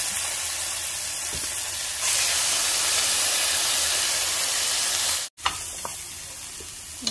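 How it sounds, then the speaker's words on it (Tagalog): Pork frying with ginger and garlic in a hot pan makes a steady, close hiss and sizzle that swells louder after a couple of seconds, with a brief break of near silence and faint stirring clicks. "i-gigisa lang muna natin yung ating pork"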